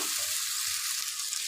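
Cauliflower sizzles steadily in a hot pan, a constant broadband frying hiss with faint low scrapes of stirring, close and continuous, no voices.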